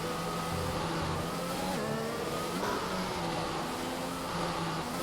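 A racing car engine from a racing video game, heard from on board a Cuda, drones steadily and loudly the whole way through, with shifting revs and no talk over it.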